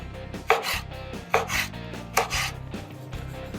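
A knife cuts through a slab of salo (pork fat) in three distinct strokes, evenly spaced and close up, each with a soft crunching scrape on the board and no voices.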